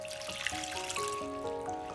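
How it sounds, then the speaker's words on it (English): Room temperature water pouring into a bowl of rice flour and tapioca starch for batter, a soft, close trickle with rising tonal gurgles as the liquid fills, quiet overall. "room temperature water"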